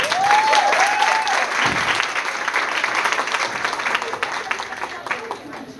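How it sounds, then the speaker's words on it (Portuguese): Sustained applause from a theatre audience, thick and continuous, slowly tapering off, with a brief whistle-like tone near the start. "Salve de palmas."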